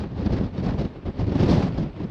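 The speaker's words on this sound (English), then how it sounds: "You only feel the wind when it changes direction." Westerly wind buffets a hillside camp spot, a continuous low rumbling gust that swells and eases against the microphone, with no voices.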